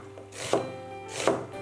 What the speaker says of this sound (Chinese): 洋葱先对半切开，再切成小碎丁。